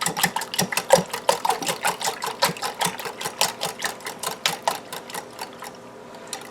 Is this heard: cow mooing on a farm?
no